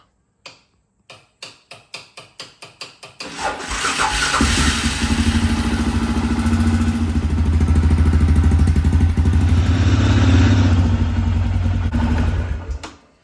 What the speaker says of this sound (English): So let's start it up and get the oil a little warm.